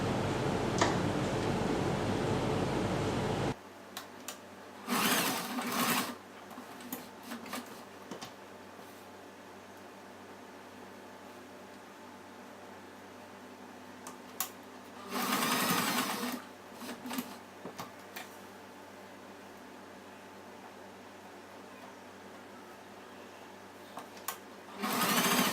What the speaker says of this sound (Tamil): நம்ம இப்போ வந்து லாக் ஸ்டிச் போட்டு முடிச்சுக்கலாம்.